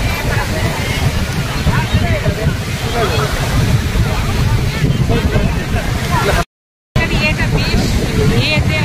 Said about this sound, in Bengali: খুব একটা উত্তাল সমুদ্র।